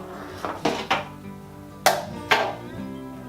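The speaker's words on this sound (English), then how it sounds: "now we put them in the crock pot" Ribs being set into a crock pot make a handful of sharp clunks and clatters against the ceramic slow cooker, five distinct knocks spaced irregularly, close and moderately loud.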